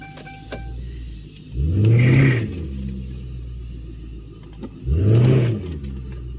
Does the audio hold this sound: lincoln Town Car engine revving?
yes